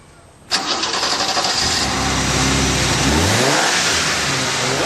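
A BMW E30 fitted with a heat shield and K&N filter cranks and fires up sharply after a brief quiet moment, then holds a loud, steady rev with a rising engine note toward the end.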